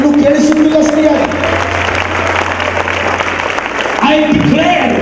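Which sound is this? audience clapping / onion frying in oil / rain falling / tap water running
audience clapping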